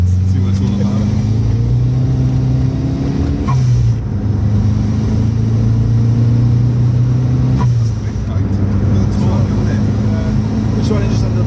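A Ford Fiesta RS Turbo engine, loud and close, holds a steady rumbling idle-to-mid revs with a couple of short throttle blips and pitch shifts, continuous throughout.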